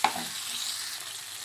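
Grated coconut frying in a pan for a masala, a short soft sizzle opening with a quick scrape of stirring, then a steady low crackle, no talking.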